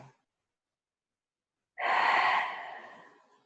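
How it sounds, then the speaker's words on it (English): A long, deep exhale during a seated yoga class, a close, breathy rush of air that starts abruptly after a silence and slowly fades out over more than a second. "give yourself a deep out breath here"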